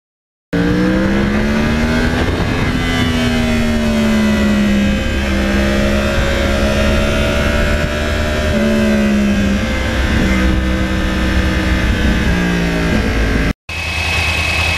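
A 2009 Yamaha R1 crossplane motorcycle engine revs loud and close, holding a high steady pitch that rises and dips through several swells before cutting off briefly and resuming near the end.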